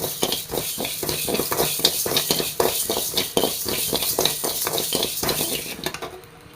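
Two or three tablespoons of raw rice dry-roasting in a pan, a close rhythmic scraping and rattling of grains stirred with a spoon over a light sizzle, repeated strokes about every third of a second.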